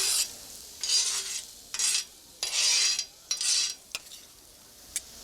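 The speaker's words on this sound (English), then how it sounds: "And so now we begin to mix them with the peppers." Peppers tossed with toasting almonds in a flame-heated pan, stirred in several bursts of close, rough scraping and sizzling swishes separated by short quiet gaps, with no one talking.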